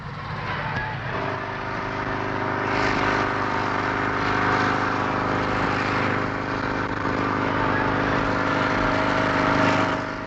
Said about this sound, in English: Made of plastic and plywood, it's powered by a motorcycle engine.